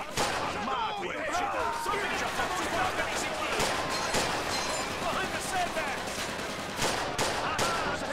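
Rapid gunfire in Mafia II: dense bursts of automatic shots and sharp cracks that run almost continuously, loud and close. A player's voice is mixed in now and then.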